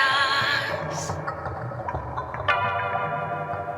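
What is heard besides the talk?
song playing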